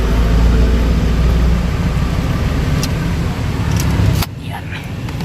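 A vehicle engine idles loudly with a steady low rumble, then cuts out abruptly near the end, leaving a quieter background with faint voices.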